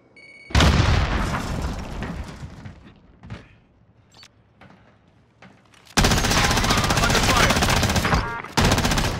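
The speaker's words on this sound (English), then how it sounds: "Grenade out!" Loud grenade blast followed by bursts of automatic gunfire and scattered pops in a Call of Duty Warzone match on Rebirth Island, with a second dense volley of shots erupting near the end.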